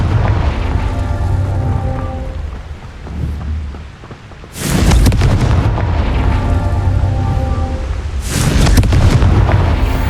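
Explosive Confringo spell blasts in Hogwarts Legacy: two loud booming detonations about four seconds apart, each a sharp burst followed by a long rumble, over a steady game background.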